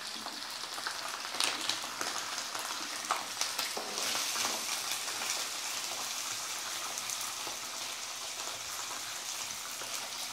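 Food fries in a pan that still holds some water, giving a steady, close hiss of sizzling broken by scattered sharp spatters and pops, with no talking over it.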